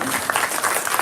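Quick burst of applause from an elementary school audience during a storytelling assembly, loud and close, lasting only a moment.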